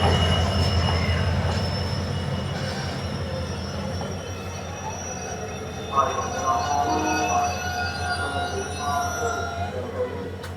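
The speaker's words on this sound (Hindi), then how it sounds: "चलें डाउन साइड पर एक ट्रेन पहुंच गई" A train pulls in at a station platform on the down side in Colombo, Sri Lanka, its wheels squealing in sustained high tones over a low rumbling roll, close and fairly loud.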